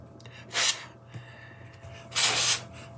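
Two short, breathy puffs of air blown close by onto powder on a card, separated by a quiet pause.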